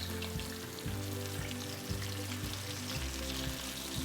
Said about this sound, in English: And we're gonna put in our fish fillets.